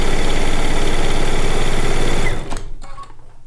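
Sewing machine running steadily while stay stitching around the perimeter of a Lacey Log Cabin quilt top, a dense continuous motor whir with fast needle rhythm for over two seconds, then stopping abruptly into faint handling sounds.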